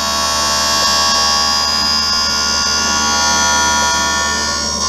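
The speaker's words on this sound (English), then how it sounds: "So that is your lens cutting." A lens edger dry-cutting polycarbonate eyeglass lenses gives a steady, loud, high-pitched mechanical whine that holds constant throughout, with no talking.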